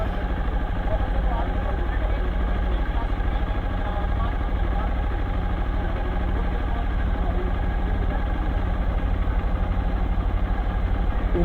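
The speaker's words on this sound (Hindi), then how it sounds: "इंजन लोड ही नहीं ले रहा है यार," A Hero Xpulse 200 motorcycle engine runs in the cold on a mountain pass, a steady loud rough idle with an uneven throb that struggles to take load, continuous and close.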